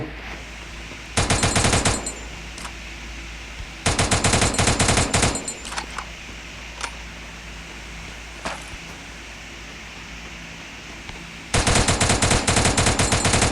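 Gunfire from the video game Free Fire: three loud bursts of rapid automatic fire, each lasting about a second, separated by quieter stretches with a few isolated single shots, and no talking.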